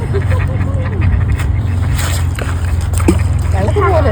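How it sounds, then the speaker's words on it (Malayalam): A speedboat runs on Kearney Lake near Halifax, its steady low engine drone and water slosh continuing close and loud throughout, with voices faintly in the background. "speed boat"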